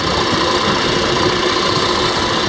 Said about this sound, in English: I think I'm overloading the motor at full speed.